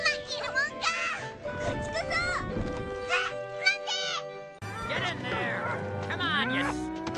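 Cattle moo repeatedly in long, drawn-out calls, overlapping with voices talking, with a sudden shift partway through as more lowing follows.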